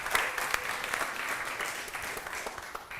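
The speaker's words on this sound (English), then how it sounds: "An applause to William." Audience applause greets a presenter walking onto the stage at a tech demo day, a steady dense clapping from a room full of people that holds evenly for the full three seconds with no voices over it.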